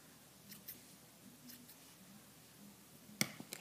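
A few faint scissor snips cutting twine for chaplets, with a sharper closing cut near the end; quiet and close, no talking.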